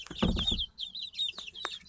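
Young chickens, a growing flock of cockerels and pullets, cluck and chirp close by, with a dense burst of clucks at the start, then scattered calls and high chirps alone.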